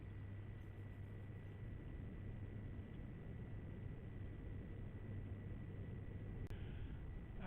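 A steady, loud roar of thrusters on an Iron Man suit powering back on fills the whole stretch without break, with a low hum underneath and a brief sharp hiss near the end.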